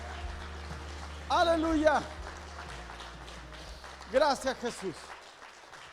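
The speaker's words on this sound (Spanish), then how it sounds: "Un fuerte aplauso a Cristo" A church congregation applauds Christ in two bursts of clapping, while a voice speaks over the sound at close range.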